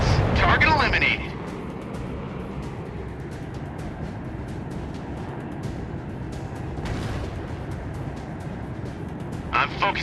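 Rockets from a P-80 fighter plane explode in a video game attack on an enemy train and anti-aircraft guns. A loud blast opens the clip, a steady aircraft drone follows, and another burst of explosion noise comes at the end.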